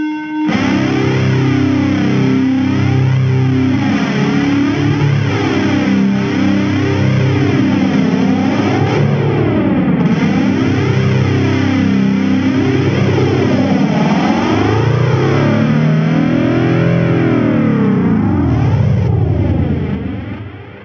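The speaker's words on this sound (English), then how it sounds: "I also like to use this ramp up effect on the space echo on the delay. It just mimics kind of tampering with the actual tape on a tape echo machine." A Space Echo–style tape delay pedal on a doom metal pedalboard ramps its repeats up and down, producing a loud, dense swirl of distorted, pitch-sweeping echoes that rise and fall in waves, with no voices.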